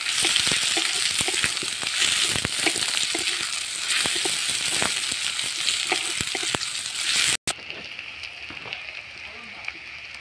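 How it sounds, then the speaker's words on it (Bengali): Chopped onion sizzles steadily in a hot pan for a home-cooked mushroom dish, with a dense crackling hiss and occasional stirring clicks; the sound cuts off briefly near the end, then resumes quieter. "পেঁয়াজটা একটু লাল করে ভাজবো।"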